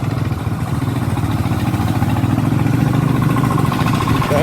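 A motorcycle engine idles close by with a steady, throbbing low rumble that rises slightly toward the end, loud and alone with no talk over it.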